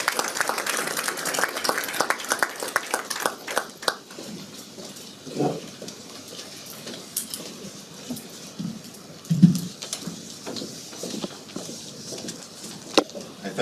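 An audience at a school essay and drama competition applauds a primary school principal; dense clapping rattles loudly for about four seconds, then thins into scattered claps and faint room noise.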